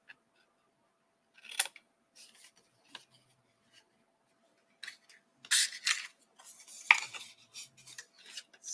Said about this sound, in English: Or you can just put your scissors in there and angle it down, which takes a lot more off, but it still works.